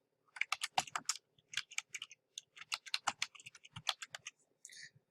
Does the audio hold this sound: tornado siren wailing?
no